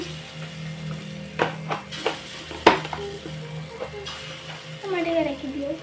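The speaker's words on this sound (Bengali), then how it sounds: "অল্প তেলে ছোট ছোট সেভ করে বড়াগুলো আমি ছেড়ে দিয়েছি" Small banana flower fritters frying in a little oil, a soft steady sizzle with several utensil clinks and scrapes against the pan, and a faint voice briefly near the end.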